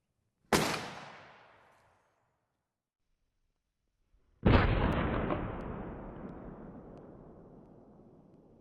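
A muzzleloader fires with a bullet lodged in the barrel just behind the muzzle, producing two separate sharp, loud blasts several seconds apart, each trailing into a long decaying outdoor echo.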